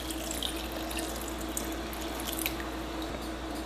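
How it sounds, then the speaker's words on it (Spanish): Water pours steadily into a blender holding melon, guava and rice for a rice-water drink, making a continuous splashing rush up close with faint dripping. "Y le vamos a agregar agua."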